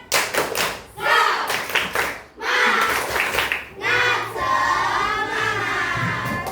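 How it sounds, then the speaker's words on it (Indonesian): A primary school class does a rhythmic spirit clap together, bursts of group clapping and thumping separated by short pauses, with children's voices chanting along close by. "tepuk semangat"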